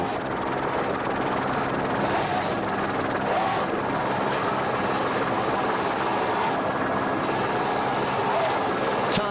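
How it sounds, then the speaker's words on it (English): Helicopter hovering over a 1986 powerboat race in the Florida Keys, a loud continuous rotor thrum and engine drone throughout, with a voice talking over it. "What great work by Randy Riggs, our chopper pilot."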